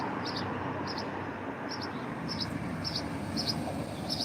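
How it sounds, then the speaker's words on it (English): Birds chirp outdoors, perched up on a wire, giving short bright calls repeated at an even pace above a steady background rumble. "We even got birds."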